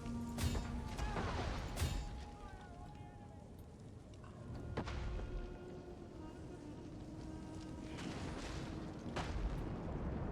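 Flaming siege rounds slam into city walls during a Total War: Attila battle, a series of distant booming impacts and crashes over a steady rumbling battlefield din, with occasional tonal whooshes in between.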